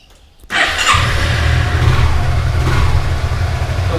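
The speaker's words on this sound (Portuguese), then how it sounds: "Você segura aqui os dois freios e aperta o start de partida." A Honda SH 300i scooter engine starts on the push button, a sudden whirr of the starter catching into a steady, loud idle that holds close and even.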